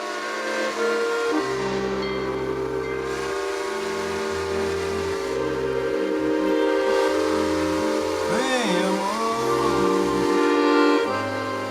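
A steam locomotive weighing several hundred tons at a station in Taipu, Rio Grande do Norte, Brazil, rumbles past loudly and continuously, and a long wavering steam whistle sounds near the end.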